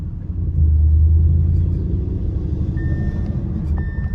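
Audi S6 fitted with a CTS intake, engine running with a steady low rumble and a slight swell in throttle response, heard close and continuous with no talking.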